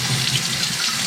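Water running from a tap into a kitchen sink while pickled mustard greens are rinsed, a steady close splashing rush with no voices.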